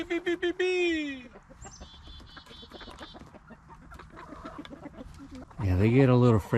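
Chickens and a rooster on a dairy farm, close and fairly loud, with a rising squawk at the start, scattered clucks in the middle and a burst of loud, harsh calling at the end.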